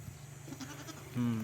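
A goat bleats once, loud and close, near the end of a short stretch of quiet outdoor background.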